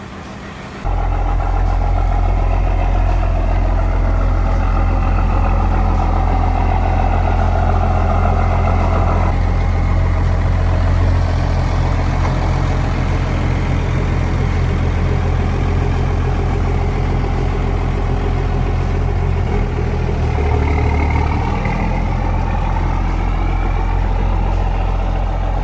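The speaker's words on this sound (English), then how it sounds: "Cold start." First-generation Cummins turbo diesel truck firing up from a cold start, then settling into a loud, steady, low diesel idle with a rough clatter, heard up close with no talking.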